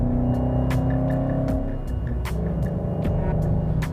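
Roush Stage 3 Ford Mustang, a supercharged V8 tuned coupe, thrumming with a steady deep engine drone and throb, close and loud, with faint intermittent ticks over the rumble and no talk.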